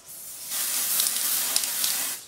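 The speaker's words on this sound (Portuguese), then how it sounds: "a Bourjois faz esse daqui que é o bronzer deles em spray, então você chacoalha e você pode dar uma espirradinha." A Bourjois spray bronzer can lets out a continuous close hissing spray of about two seconds, with faint bursts within it, after a brief quiet start.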